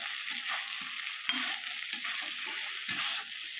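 Chicken and vegetables fry in hot oil with a continuous close sizzle, broken by soft scraping stirs of a spatula at irregular intervals.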